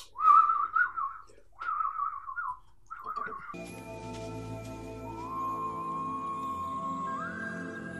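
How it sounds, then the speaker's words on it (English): Alien creatures from the film Mac and Me make short warbling whistles in several bursts, then stop as swelling orchestral music takes over. "And they do their little whistle thing."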